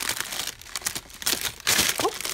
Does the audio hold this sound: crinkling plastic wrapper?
yes